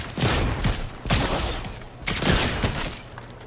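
Sharp, loud Fortnite gunshots crack out in three distinct bursts about a second apart, each with a crashing, shattering tail during a trickshot attempt.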